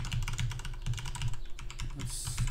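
Rapid typing on a computer keyboard, with steady, close clicking keystrokes in an uneven rhythm, heard alone without any voices.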